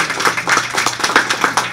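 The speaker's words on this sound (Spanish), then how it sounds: "A round of applause for Grupo Félix 2018." At a Latino heritage event, an audience claps for a student group, the sharp, fairly close claps coming in a loose, uneven rhythm over a brief moment.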